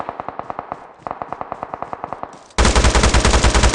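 Gunfire in a battle royale video game comes as two quick bursts of rapid, evenly spaced automatic shots, then a sudden loud, dense stretch of overlapping fire to the end.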